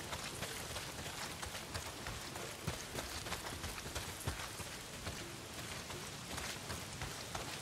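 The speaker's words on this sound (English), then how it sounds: "Not if it's pissing down rain." Heavy rain pours down in the post-apocalyptic game Days Gone, a dense, steady hiss of drops hitting surfaces with scattered louder splats, and no voices over it.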